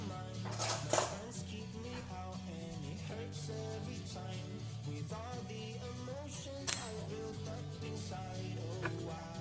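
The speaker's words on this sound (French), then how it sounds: "Alors, on va venir choper une petite cuillère." A small spoon is picked up and clinks against dishes in a kitchen while porridge is being made, with a few light metallic chinks scattered over soft background music.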